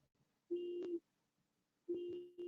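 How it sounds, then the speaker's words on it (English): A car alarm out on the street sounds faintly in the distance as two steady electronic pulses separated by a short gap. "I have a car alarm in the street."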